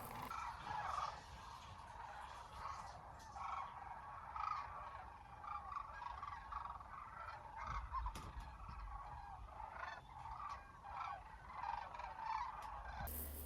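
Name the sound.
sandhill cranes calling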